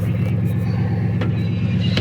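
A truck engine idles steadily after firing up, with a low, even rumble and a faint rhythmic pulse close by, while a couple of brief clicks or taps sound over it.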